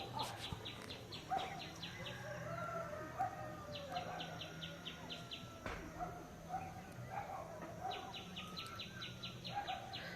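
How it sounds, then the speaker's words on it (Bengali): Birds call and chirp around a hillside homestead near Darjeeling at Sevoke Kalibari: repeated short, high chirps scattered through a steady outdoor ambience, some closer and others farther off, with no talking. "চারিদিকে কিন্তু প্রচুর পাখি"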